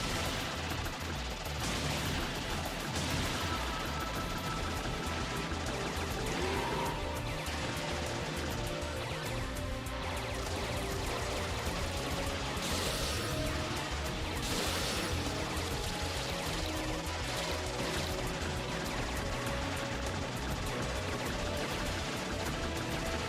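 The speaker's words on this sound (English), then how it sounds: "the really bassy speakers make all the explosions sound really, like," Explosions in the arcade shoot-'em-up Volcano, played on a cabinet with bassy speakers, pound in a dense, relentless barrage mixed with loud game noise throughout, with no voices.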